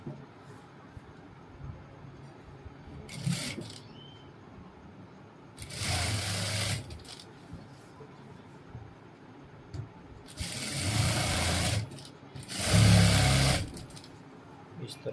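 Sewing machine stitching the hem of a pair of ladies' pants, running in four separate bursts of steady, fast whirring, each a few seconds long, with quiet pauses between them.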